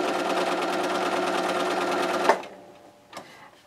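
A sewing machine stitches a row of a raw edges square quilt, humming steadily and close for about two seconds before stopping, followed by a faint click and light handling.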